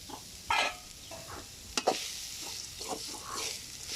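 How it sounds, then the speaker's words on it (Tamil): Coconut and jaggery sautéed and stirred in a pan at home, giving soft scraping stir strokes and brief clatters of the spoon over a faint steady sizzle, with no talking. "இது நம்ம லேசாக ரெண்டு வதக்கு வதக்கிட்டு இப்போ இதில் வந்து வெள்ளம் போட்டுக்கலாம்"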